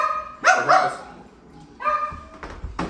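Several dogs give a few short, fairly loud barks in two bursts, with quieter gaps and faint noise between them.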